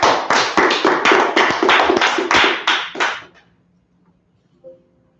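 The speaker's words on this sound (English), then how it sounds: "Clapping up the class." A class claps in sharp, loud, rhythmic unison, about a dozen crisp claps over three seconds that stop abruptly, followed by near silence and a faint brief tone.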